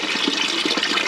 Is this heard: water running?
yes